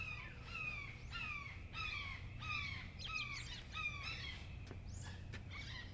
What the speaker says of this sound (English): Right behind us we got a family of hawks.